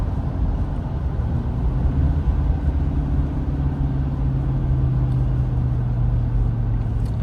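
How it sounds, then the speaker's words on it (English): A 2023 Ford F-350 pickup with a 6.7L high-output diesel rolls downhill, its engine a steady low rumble with gently shifting tone as it downshifts, no talk over it. "Nicely downshifts, not too aggressively."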